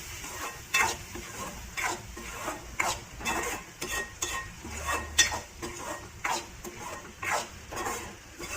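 A spoon scrapes and stirs field bean (mochai) masala in a pan as it sautés, a steady run of rasping strokes under a soft background sizzle, close up and fairly loud, with no talking.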